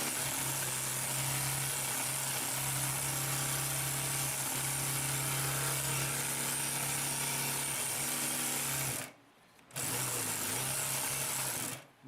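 A Consew P2339RB double needle walking foot upholstery sewing machine stitches through several stacked plies with a loud, steady mechanical whir and hum, stops for a moment, then runs again before stopping.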